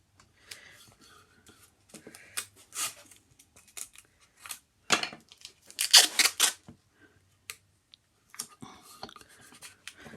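Scissors snipping tape wrapped around a curved edge, a run of short close cuts and crinkly tape handling at uneven intervals with quiet gaps between, no speech.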